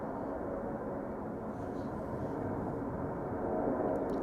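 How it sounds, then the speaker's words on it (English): A Transavia Boeing 737-800 bound for Barcelona takes off at Schiphol Airport, a faint, distant, steady jet roar with a broadband rush and no talk. "Transavia flight 5135 going to Barcelona, taking off from center, 737-800."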